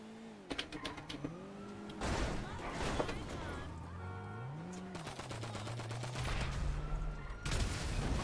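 Rapid machine pistol bursts in GTA Online, several sharp volleys scattered across a busy mix with engine and vehicle sounds and a voice talking over them.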